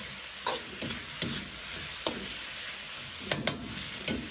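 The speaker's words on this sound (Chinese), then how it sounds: "继续翻炒几下。" Potato, onion and pork are stir-fried in a wok, with a soft sizzle under repeated sharp scrapes and knocks of the spatula coming every half second or so, close by and without speech.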